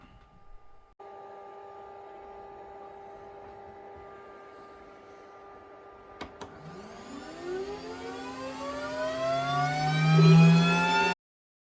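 A Glowforge laser cutter cuts a puzzle from Baltic birch plywood. A steady fan-like whir holds for several seconds, then a click leads into a rising, sweeping whine that swells louder before stopping abruptly.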